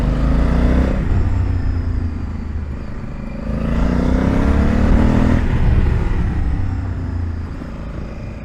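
A 2020 Honda Africa Twin DCT adventure motorcycle engine pulls hard uphill, a loud sustained roar that rises in pitch through two accelerating surges, with no talking over it.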